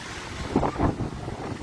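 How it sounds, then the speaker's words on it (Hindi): Strong wind gusting outdoors in Hazaribagh, bending a coconut palm to one side, a rough rumbling buffeting against the microphone with a couple of louder surges. "हवाएं चल रही है।"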